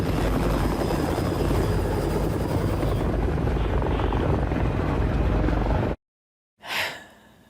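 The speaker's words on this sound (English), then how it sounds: "He's being transported by helicopter to Moscow." A helicopter flies in a scene from the TV series Chernobyl. A loud, continuous rotor drone runs for several seconds, cuts to silence, then returns as a brief swell at the end.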